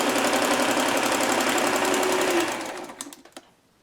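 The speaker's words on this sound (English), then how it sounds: "I have missed this sewing machine." A sewing machine runs at a steady fast whir of stitching, then slows and stops with a few final clunks of the needle.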